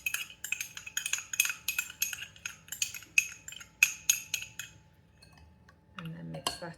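A spoon or whisk clinks rhythmically against a bowl while a slurry is stirred into a fruity pudding, a quick run of bright metallic taps that stops, followed by a brief softer scrape.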